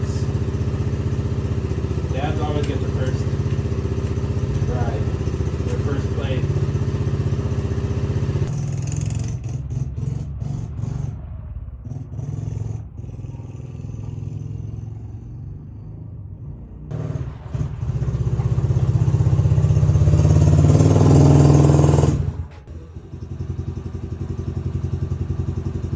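A Tao Tao 110 mini quad fitted with a KX60 engine is ridden, its buzzing engine droning steadily, dropping and rising as it passes, swelling to a loud close rev before cutting off abruptly.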